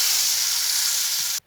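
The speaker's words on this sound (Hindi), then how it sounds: "अब मैं इसमें ये तड़का लगा देती हूँ" Hot tadka tempering poured over cooked toor and moong dal gives a loud, steady sizzle that fills the pan and then cuts off abruptly after about a second and a half.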